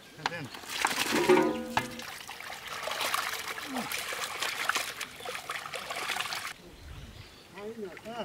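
Water trickles and splashes as turkey meat is washed in a village kitchen, a light pouring dribble with murmuring voices nearby.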